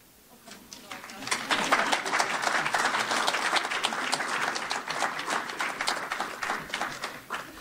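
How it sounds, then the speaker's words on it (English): Chamber of Commerce economic forecast audience bursting into applause, rising quickly from quiet to a full round of clapping with distinct sharp claps, holding steady for several seconds. "You can clap for me"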